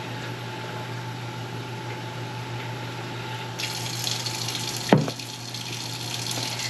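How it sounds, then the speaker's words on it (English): Water poured into an Instant Pot over a corned beef brisket, a steady close running gush that brightens and grows fuller partway through, with one sharp knock near the end and no talking. "Now what I'm going to do is I'm going to add water"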